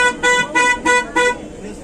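A car horn honks four times in a quick rhythmic series of short loud blasts, then fades into heavy background traffic noise in Kashi.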